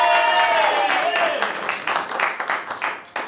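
Audience applause and cheering for a contestant at an improv comedy tournament, a short burst of clapping with voices whooping over it, tapering off within a few seconds.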